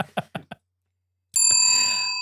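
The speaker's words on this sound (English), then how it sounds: "That's the bell. That was a good bell." A few short knocks, then a single bright, loud metallic bell strike ringing out clearly with a sustained decaying tone.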